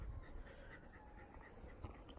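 A long-furred dog pants steadily at close range, a quick rhythmic breathing that runs under a faint low background hum with no voices.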